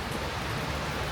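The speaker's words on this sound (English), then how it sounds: "it's raining." Steady rain falls outdoors, a dense, even hiss of drops close by and fairly loud, with no talking.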